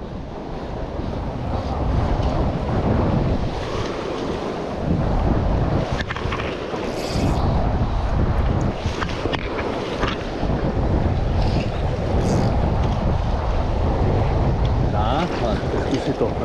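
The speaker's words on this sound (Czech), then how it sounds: "pořád teče teda relativně hodně vody" A river runs strong and full during a fly-fishing competition near Prague, its steady rushing churn buffeted by wind noise on the microphone throughout, with occasional faint voices nearby.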